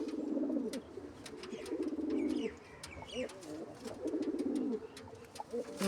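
Several pigeons, a loft of breeding pairs, coo in repeated low rolling phrases close by, with brief chirps and wing or cage rustles in between.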